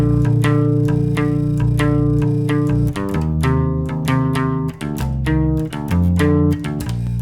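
A bass guitar plays a bass line, a steady, loose-feeling groove of plucked repeated notes. It is loud and close, and no voice is heard over it.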